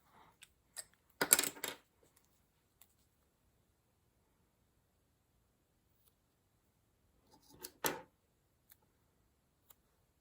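Paper planner sticker snipped in half with scissors, two short crisp bursts of cutting a few seconds apart in an otherwise quiet room.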